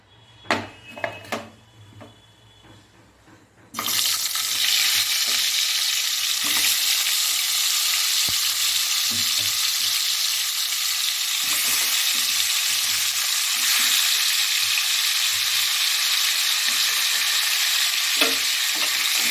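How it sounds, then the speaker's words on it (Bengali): Potatoes coated with salt and turmeric drop into hot oil in a pan after a few clinks. A loud, steady sizzle starts and carries on, with small stirring scrapes under it. "আমি ঢাকা দিয়ে ভালো মতো একটু লাল লাল করে আলুগুলোকে ভেজে নেবো"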